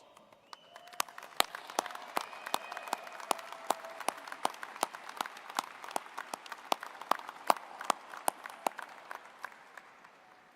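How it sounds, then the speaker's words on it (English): Families applaud graduating student athletes at an evening celebration, with sharp distinct handclaps in an uneven patter over a soft bed of further clapping, continuing steadily throughout. "please give them a round of applause"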